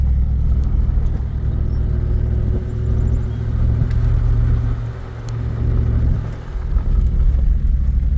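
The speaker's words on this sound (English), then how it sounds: "Roll the windows down now. Driving a little slower." A car driving slowly along a narrowing road with its windows down, producing a loud, steady low engine rumble and wind noise that swells and eases slightly throughout, heard from inside the cabin.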